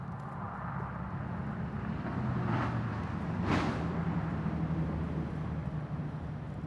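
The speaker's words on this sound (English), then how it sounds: "Wait till that car goes by." A car passes by at a moderate distance, its engine and tire noise swelling gently over a steady outdoor hum before fading.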